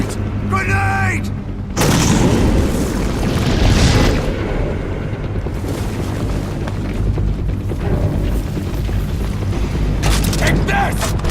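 A grenade goes off in Metal Gear Solid V: The Phantom Pain, a heavy close boom with a long rumbling tail. Someone shouts over the opening and keeps talking through the following noise.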